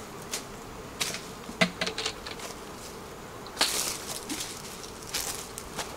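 Faint buzzing of honey bees around a hive, with scattered soft taps and knocks breaking through the low hum.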